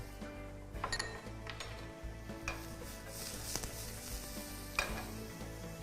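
Garlic added to olive oil in a Tefal frying pan for a lamb tagine, with a low steady sizzle and a few sharp clinks of a utensil against the pan.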